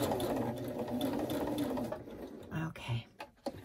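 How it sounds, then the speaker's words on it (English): Sewing machine stitching down the slit of scrappy journal pages: a fast, continuous mechanical whirr for about two seconds, then a few short bursts and stops. "I'm going to start. Sewing all the way down."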